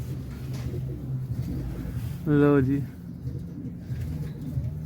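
Pigeons at a rooftop loft, one giving a single clear, rolling coo near the middle, over a steady low background murmur, with people talking nearby.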